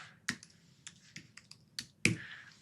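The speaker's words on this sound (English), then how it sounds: "let me type first." Keys on a computer keyboard are tapped in a short, irregular burst of about eight close, crisp clicks, with one firmer final press, heard alone in a quiet room.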